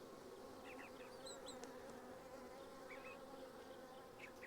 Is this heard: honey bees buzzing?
yes